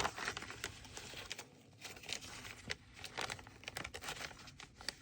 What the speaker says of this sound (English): One of the easiest ways to tear these rice papers is by using a brush and wetting it